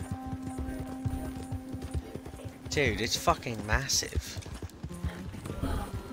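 A very large horse gallops in Red Dead Redemption 2, its hooves making a steady, rapid clip-clop close by while someone talks over it and a brief whinny-like cry rises in the middle.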